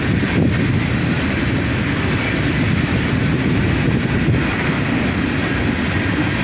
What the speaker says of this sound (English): A pair of SD40-3s lead this one in.